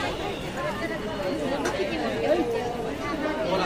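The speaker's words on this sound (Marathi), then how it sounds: "जत्रेला गर्दी असते तशी इथे दररोजच्या दररोज गर्दी आहे" A dense crowd of devotees at the Tulja Bhavani temple in Tuljapur makes a steady murmur of overlapping voices, with nearer chatter standing out now and then against the continuous hubbub.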